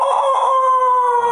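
A rooster crows in one long, loud, sustained call that holds steady and close, with no other sounds alongside.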